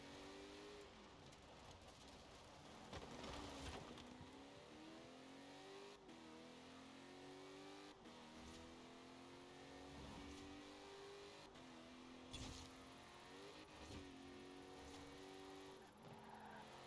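An Oldsmobile 442 muscle car in Forza Horizon 4 drives hard, its engine repeatedly revving up through the gears with rising and falling pitch sweeps and brief shift breaks, loud and continuous with no talk.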